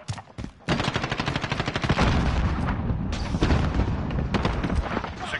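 Gunfire in a Call of Duty match: a brief stutter of shots, then sustained rapid automatic fire with heavy booming hits that rattles on loudly to the end, with no voices over it.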